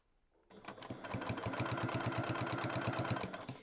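A sewing machine stitches a handmade fabric zipper pouch, starting after a short silence and then running as a fast, steady mechanical rattle of even, rapid needle strokes, close and clear.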